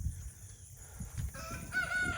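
Chickens and a rooster on a farm near a coop, with soft clucking early on and a faint, drawn-out crow toward the end, heard at a moderate distance over low outdoor background noise.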